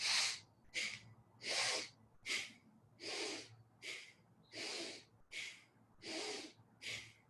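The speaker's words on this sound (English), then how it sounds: "We really wanna focus on just breathing big, quick, full breaths into the belly" Quick, full belly breaths in a breathing exercise demonstration, about ten forceful rhythmic breaths close to the microphone, alternating longer and shorter bursts of airy hiss with no talk.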